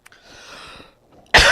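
A single sharp cough bursts out abruptly near the microphone at the end, preceded by a faint breathy throat sound and near silence.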